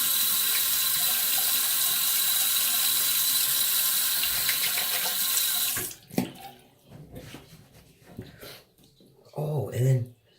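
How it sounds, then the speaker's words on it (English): Water runs from a bathroom tap while shaving soap is prepared, a steady hissing stream for several seconds that then cuts off, followed by scattered splashes, clinks and short handling noises. "let me just add some more water here, or some more soap."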